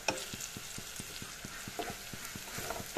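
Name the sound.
stirring spices in a frying pan for small fish curry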